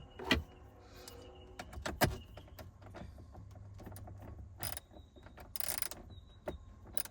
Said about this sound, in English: But I have 7mm, and I have this extension and a ratchet